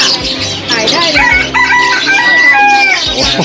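Rooster crowing loudly and close at a busy pet market in Chatuchak, Bangkok, one long drawn-out crow filling the moment amid market background noise.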